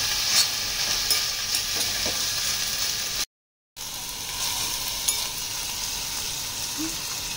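Bay leaves and dried chillies sizzle in hot oil for paneer lababdar, a steady close frying hiss with occasional light crackles and spoon scrapes, briefly cut by a short silence midway.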